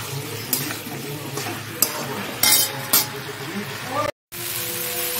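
Peas sautéed in a pan with salt, turmeric, green chili and ginger paste: a close sizzle under scraping stirs and a few sharp clinks of a spatula against the pan, with a short gap near the end.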